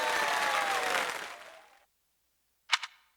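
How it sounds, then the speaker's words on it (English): Crowd applause in the video game Fire Emblem Three Houses, a dense burst of clapping that fades out over a couple of seconds, followed by silence and then two sharp, quick clicks. "please give a big round of applause for our talented participants"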